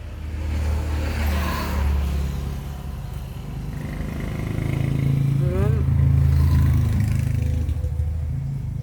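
Road traffic passes on a nearby street under repair: a steady rumble of cars and motorcycles with an engine revving, and a voice faintly present.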